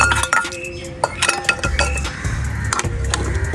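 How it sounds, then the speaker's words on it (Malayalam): A spoon clinks and scrapes against a metal pan while curry is stirred, giving irregular close-up metallic taps and scrapes over a faint sizzle. "നമുക്കൊന്ന് ഇളക്കി കൊടുക്കാം."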